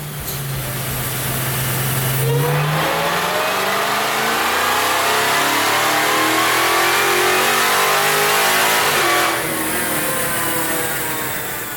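A supercharged Dodge Hellcat engine with a fully ported supercharger on pump gas winds up on a dyno, climbing from a low rumble to a loud, sustained high-rpm howl and then dropping off, close and without speech.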